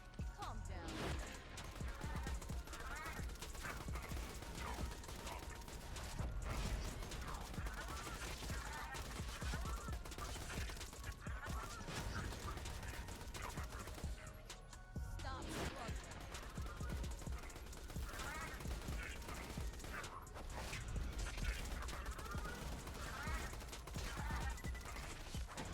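Baby Maker gun firing slag rounds in Borderlands 2, sustained rapid bursts of gunfire with small pauses, dense and loud, mixed with game effects and talk.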